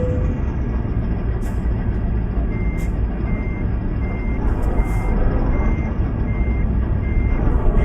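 A truck's reversing alarm beeps at a steady, evenly spaced rhythm while parking in Euro Truck Simulator 2, set over a loud, continuous rumble of the engine and game ambience.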